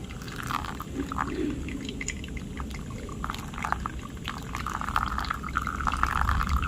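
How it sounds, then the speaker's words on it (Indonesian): Water is poured in circles over ground Ethiopian Aricha Wubanchi coffee in a pour-over brew, a close continuous trickle and splash that builds slightly louder toward the end, with no talking. "Saya akan tuang mengelilingi, menyentuh segalanya."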